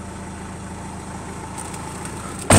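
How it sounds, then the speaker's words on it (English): A truck engine idles with a steady low rumble heard from inside the cab, its note shifting slightly as the air conditioning kicks in, then a sudden louder burst at the very end. "you hear the engine changing note there"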